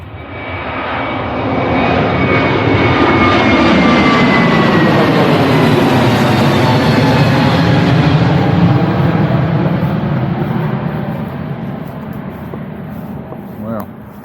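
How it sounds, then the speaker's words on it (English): An airplane passing low over a busy airport runway near a campsite, a loud roaring engine rumble that swells, holds for several seconds with a descending whine, then slowly fades. A voice is heard faintly under the roar. "I wonder if we'll see an airplane. We're going to see an airplane."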